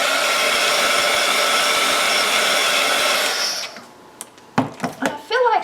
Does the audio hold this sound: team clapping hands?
no